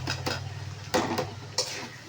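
Split moong dal, half-cooked beforehand, being stirred and fried in a pan for ridge gourd rice, with a few sharp scrapes and clinks of a spatula against the pan over a steady low sizzle.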